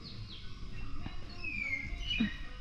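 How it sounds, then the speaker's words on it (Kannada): Birds chirp and call on a foggy morning in a coffee plantation, a thin whistling song drifting over a steady outdoor background, with a few brief nearer calls. "ಹಾಗೆ ಫುಲ್ ಬರ್ಡ್ಸ್ ಎಲ್ಲ ಕೇಳಿಸ್ತಾ ಇತ್ತು"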